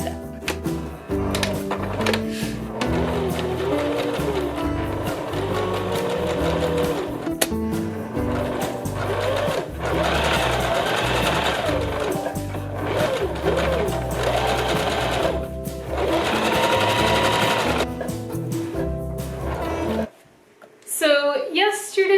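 Sewing machine stitching down details on a piece of vintage clothing, loud and steady with running bursts, heard under continuous background music for about twenty seconds before a brief quieter pause.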